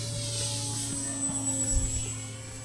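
A Skynetic Sbach 342 RC airplane flying in strong wind gives a steady high-pitched electric motor whine over a low continuous hum, with soft wind buffeting and no voices.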